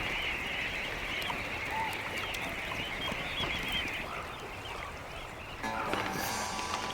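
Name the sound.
migrant birds, geese honking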